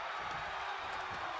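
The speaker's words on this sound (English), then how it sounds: "The sound of this crowd is deafening" A virtual arena crowd in the WWE 2K22 wrestling game roars and cheers continuously at a wrestling match, a dense, steady wash of noise.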